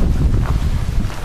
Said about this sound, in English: It's like we're having a windstorm right now.